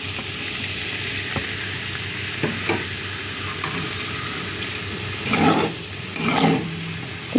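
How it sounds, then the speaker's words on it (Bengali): Chopped onions frying in oil in a wok for a mutton curry, a steady loud sizzle with scattered spatula scrapes and two louder bursts of stirring toward the end, close and alone. "তো কড়াইতে আমি কেটে রাখা পেঁয়াজগুলো এই তেলের মধ্যে দিয়ে দেবো।"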